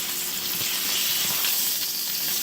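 T-bone steak sizzling in a hot pan, a continuous bright hiss and crackle, close and steady with no talk.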